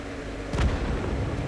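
A single heavy artillery shot from an Object 261 self-propelled gun firing a tier 10 shell in a tank battle game, one loud booming report over constant low game rumble.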